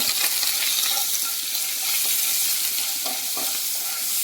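Steady loud sizzling and crackling fills the clip as ingredients roast in a hot pan, with occasional scraping from a spatula.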